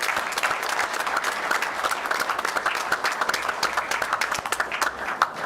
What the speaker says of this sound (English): So that deserves a big round of applause.